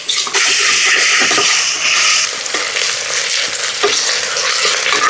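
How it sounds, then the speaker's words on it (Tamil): Chopped onions fry loudly in hot oil for a chicken pepper gravy, a close, bright, continuous hiss broken by scraping strokes of a spoon stirring them through the pan. "இப்போ நாங்கள் அரிஞ்சு வச்ச வெங்காயத்தை சேர்த்துக்கிறோம். வெங்காயத்தை நல்லா மிக்ஸ் பண்ணிக்கிறோம்."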